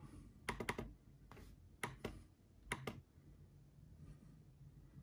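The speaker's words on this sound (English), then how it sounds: "So I'm gonna go on the touchpad. I'm clicking." The touchpad of an HP 14-inch laptop with a Ryzen 5 5500U is clicked in quick close bursts, several sharp taps grouped in clusters with short pauses between them, near and quiet.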